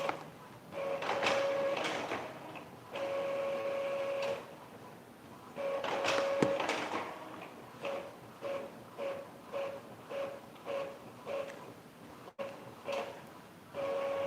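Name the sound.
printer printing school modules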